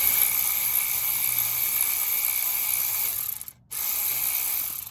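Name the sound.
ratchet with extension and swivel loosening a Challenger rear brake bolt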